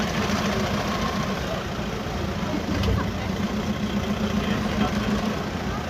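A parked Christmas-decorated car at a Bordeaux car meet sits with its engine idling, a steady low rumble that holds constant throughout with faint background noise.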